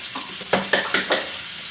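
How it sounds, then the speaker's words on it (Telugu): Dried red chillies, cumin, curry leaves and turmeric sizzle in hot oil for tempering while a spoon scrapes through them in four quick, rhythmic strokes. "తాలింపు పెడుతున్నాను"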